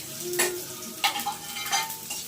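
Chopped onion, nigella seeds and green chillies fry in hot oil in a pan while being stirred: a continuous sizzle broken by scraping strokes and light clinks of the spoon against the pan.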